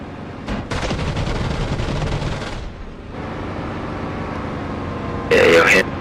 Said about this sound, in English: And there's something else shooting at me.